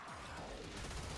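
Weapon reloading in the video game Warframe: a dense run of metallic clicks and ratcheting mechanical clatter, steady and close for just over a second, with no talking.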